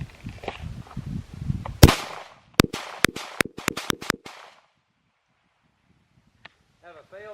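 A rapid string of loud, sharp Tisas BR9 9mm pistol shots during an endurance test, about nine cracks in quick irregular succession after a voice speaking, then quiet with a faint clink and a brief voice.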